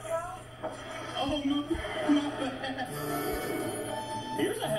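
A phone rings indoors, its tones partly buried under people talking and a brief chuckle.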